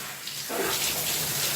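A shower switches on and water pours steadily, a broad hissing spray that starts abruptly partway in and continues close and loud.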